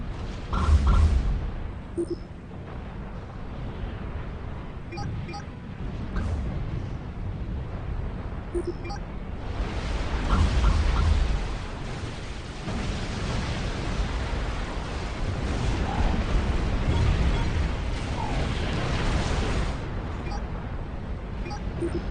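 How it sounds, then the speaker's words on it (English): Airships and bombers exploding in Supreme Commander 2, a long stretch of continuous rumbling blasts and roaring noise with swelling bursts and no clear gaps. "Oh, my bows, my airships are exploding. My bombers. I'm losing all of them."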